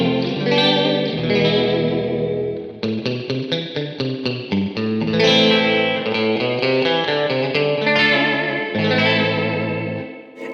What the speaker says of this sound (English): I'm on the spring reverb right now, and I love it because it has this really cool drip spring sound.